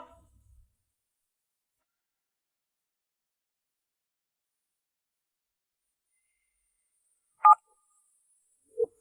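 A phone being dialed in an office after a tense argument over a lost client: two short, sharp key tones sound alone in near silence, a few seconds apart.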